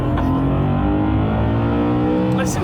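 A naturally aspirated BMW M car engine revs hard toward 7,000 RPM, a loud, continuous, harmonically rich howl heard close up from inside the cabin, with the pitch climbing steadily across the clip.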